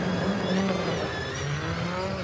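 A steady, loud engine drone comes from the Audi S1 Quattro rally car competing at Race of Champions Sweden 2022, holding a continuous tone with a faint rising whine for the whole stretch.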